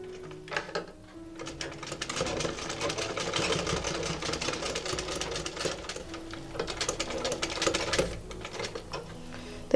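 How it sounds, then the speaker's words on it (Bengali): A sewing machine runs a seam on a cloth face mask, its rapid needle clatter fairly close and continuous, with a brief pause near the start and slight surges in speed. "অনুযায়ী রেখে এখানে একটা সেলাই করে দিচ্ছি।"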